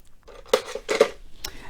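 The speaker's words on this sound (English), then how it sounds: "I'm going to trim the little points off there." A couple of quick, crisp snips from fabric scissors trimming points off quilt fabric, close by and fairly quiet.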